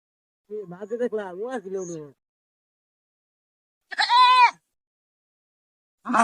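A goat bleats loudly and close by in a couple of separate wavering cries, with quiet pauses between them and nothing else heard.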